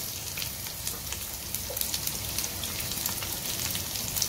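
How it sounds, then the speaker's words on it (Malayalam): Chopped onions fry in a pan for chicken biryani, a steady close sizzle and crackle holding evenly throughout with no talking. "നമ്മൾ അരിഞ്ഞു വെച്ച സവാള ഇട്ട് കൊടുക്കാം"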